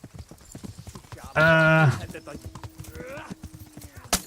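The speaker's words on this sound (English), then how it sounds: "Muévete, muévete, caballo." Rhythmic hoofbeats of a horse in a video game clip-clop steadily throughout, broken by a loud whinny and a short voiced exclamation, with a sharp hit near the end.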